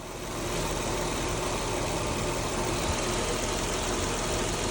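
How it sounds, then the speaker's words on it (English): A Hyundai GDI car engine runs steadily up close with a rough, knocking rattle under its hum, continuous and fairly loud. "Customer asked why the engine had started making this noise."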